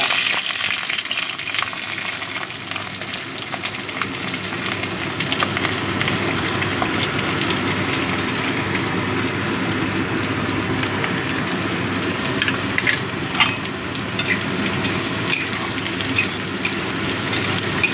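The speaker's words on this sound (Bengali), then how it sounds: "এবার এই পেঁয়াজটাকে একটু ভালো মতো ভেজে নেব" Steady, close sizzling and crackling of onions and green chillies frying in hot oil for masoor dal, continuous throughout, with occasional stirring scrapes and no talking.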